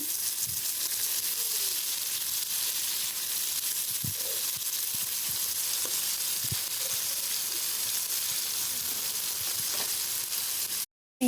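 Prawns fry in hot oil in a pan, making a continuous soft sizzle close by, dotted with faint pops and clicks as the pieces are turned, before a brief cut at the end.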